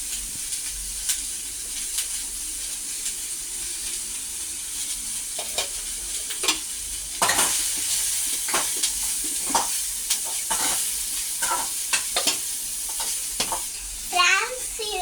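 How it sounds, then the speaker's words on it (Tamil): Carrot chutney ingredients with curry leaves being sautéed in a pan, a continuous close sizzle broken by repeated scraping stirs, with a brief voice in the background near the end. "இல்லப்பா, நல்லா வதக்கலாம்."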